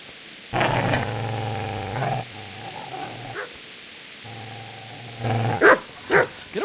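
A dog in the medieval game Kingdom Come: Deliverance lets out long, deep growls that break off and resume, followed by a few sharp barks, loud and near with no voices.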